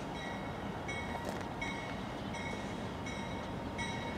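A freight train led by Union Pacific locomotives rolls past at a distance, giving a steady rumble of moving cars with faint rhythmic wheel clicks and a light metallic whine.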